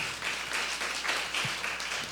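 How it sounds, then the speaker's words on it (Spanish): Applause for Diego at a gathering of the Círculo de Amigos de Bucaramanga, an even, sustained round of clapping from a seated audience with no speech over it. "Un aplauso para Diego"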